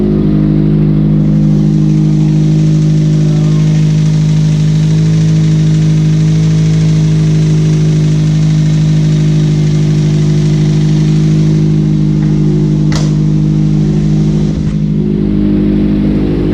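A Toyota MR2 Spyder engine with a new exhaust and no catalytic converter idles loudly and close by, a deep steady rumble with a brief blip near the end.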